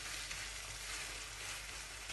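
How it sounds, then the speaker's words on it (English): A carrot and milk mixture cooking over a low flame, producing a soft, even sizzling hiss that runs without break and no voices. "So we just let it cook on a low flame."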